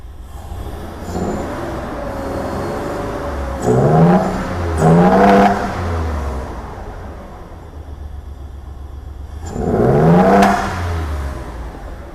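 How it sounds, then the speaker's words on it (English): A Hyundai Terracan engine with a misfire runs at a low, uneven idle, with three loud revs spread across the stretch; no one speaks. "Still misfiring, guys. Still misfiring."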